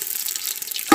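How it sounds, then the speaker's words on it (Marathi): Cumin and mustard seeds hit hot oil over a wood-fired outdoor chulha for jackfruit bhaji: a faint hiss that bursts into a sharp, loud sizzle at the very end. "ही सगळ्यात महत्त्वाची फोडणी असतात जिरा मोहरीची."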